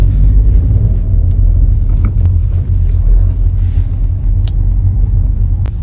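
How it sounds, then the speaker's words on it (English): Steady road traffic on a narrow lakeside route near Buttermere in the Lake District, heard from inside a moving vehicle as a continuous low engine and tyre rumble with passing cars, no talk. "God, meeting a lot more cars now."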